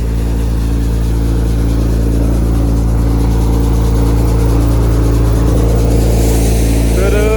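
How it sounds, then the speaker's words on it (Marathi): A tractor-driven machine for cleaning harvested chickpeas runs with a loud, steady engine drone and constant mechanical hum that holds unbroken throughout. "हे ट्रॅक्टरवरती मशीन चालतं जे की ट्रॅक्टर लावलेलं आहे त्यानंतर हे मशीन त्यानंतर चालू होतं"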